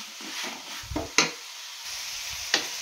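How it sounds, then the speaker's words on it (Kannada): Grated carrots frying in oil in a pan for carrot chitranna, a steady soft sizzle broken by a few scraping stirs of a spoon, close and moderately quiet. "ಆವಾಗವಾಗ ಈ ಥರ ಮಿಕ್ಸ್ ಕೊಟ್ಕೊಳ್ಬೇಕು, ಇದು ಫ್ರೈ ಆಗೋ ತನಕ"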